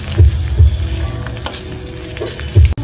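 Onions and slit green chillies frying in a pan for a village-style desi chicken curry, giving a loud close sizzle with a few heavy stirring thumps and scrapes.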